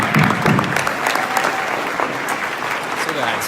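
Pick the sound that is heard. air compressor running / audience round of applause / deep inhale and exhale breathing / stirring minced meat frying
audience round of applause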